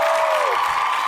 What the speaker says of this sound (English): Cue the clapping.